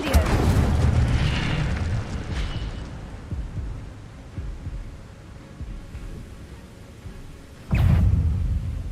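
Incendio fire spell cast in Hogwarts Legacy: a deep, rumbling whoosh of flame at the start that fades into a low hum, followed by a second sharp fiery burst near the end.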